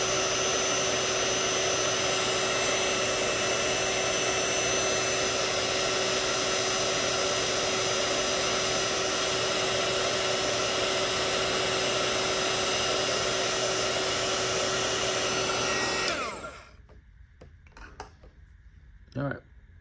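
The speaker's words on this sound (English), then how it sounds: "If you have your own heat gun at home, this process goes a lot faster with higher temperature," A heat gun blows hot air onto fly fishing line, giving a steady loud whooshing roar with a constant motor whine that runs for about sixteen seconds, then switches off, leaving quiet room sound and a few faint handling noises.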